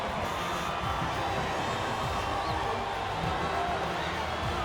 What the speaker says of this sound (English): they thoroughly deserve the cheers of the crowd here today